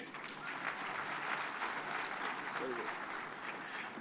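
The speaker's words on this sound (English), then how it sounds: "Another round of applause for Senator Kajwang" A conference audience gives steady applause for Senator Kajwang, a dense, sustained wash of clapping with faint voices mixed in beneath it.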